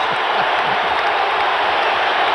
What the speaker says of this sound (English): Crowd on its feet now